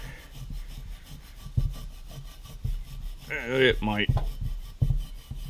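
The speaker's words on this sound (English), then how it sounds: "I don't know if just scrubbing alone is gonna take all this off" Scrubbing on a truck body to take off residue gives rhythmic rasping strokes, close and repeated, with a person speaking briefly over them.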